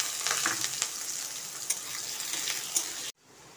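Diced potatoes frying in oil with salt for a ridge gourd dish, a steady close sizzle with a few sharp crackles and stirring scrapes, cutting off abruptly near the end.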